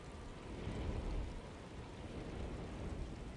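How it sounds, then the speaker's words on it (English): A thunderstorm with rain in the game Alone in the Dark gives a dense, continuous wash of rainfall with a low rumble swelling early, steady and fairly quiet throughout. "Just keeping an eye out for the storm"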